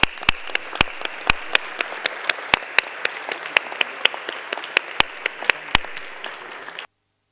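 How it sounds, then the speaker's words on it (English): Audience applause fills a World Heritage Committee session hall, steady clapping from a large crowd with a few sharper claps standing out, holding evenly for about seven seconds before stopping abruptly. "So let's give them a big round of applause."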